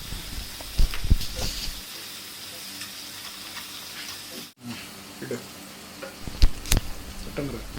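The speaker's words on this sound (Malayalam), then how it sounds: "നെയ്യ് ചൂടായതിനു ശേഷം ക്യാരറ്റും ബീൻസും ഇതിലേക്കിട്ട് വഴറ്റിയെടുക്കുക." Carrots and beans sautéing in hot ghee give a soft, steady sizzle with a few sharp clatters of stirring, fairly quiet and close.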